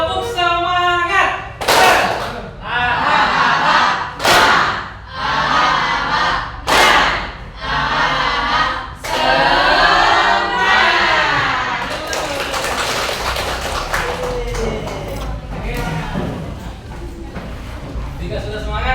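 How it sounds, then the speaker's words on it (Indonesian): Students do a rhythmic spirit clap, tepuk semangat, in a classroom, with loud sharp clap bursts in a chanting pattern and group voices calling along between the claps. "Untuk memberikan semangat kita tepuk semangat."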